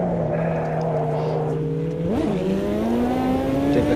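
A GT race car in the video game Automobilista 2 accelerates away: a steady engine drone, then a quick dip and climb in pitch as it pulls off, with the engine note rising loudly and continuously through the gears.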